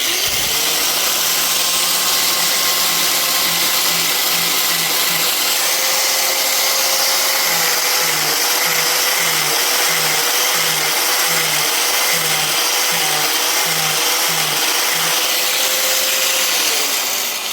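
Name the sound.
power tool grinding down tire tread rubber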